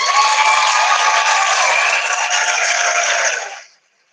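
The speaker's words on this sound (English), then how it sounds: "Let's give him a round of applause," A crowd applauds steadily, a dense wash of clapping that holds for several seconds before fading out quickly.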